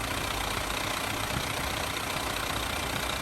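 A truck's Toyota 14B diesel engine, fitted with a turbo, idles continuously at close range with a steady rumble, a dense low-end drone and no voices.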